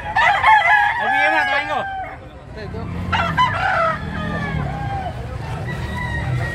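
A native rooster crows loudly up close, one long call near the start and another around the middle, with clucking fowl and someone talking in between.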